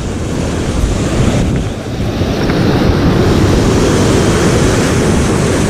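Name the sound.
ocean waves breaking on shore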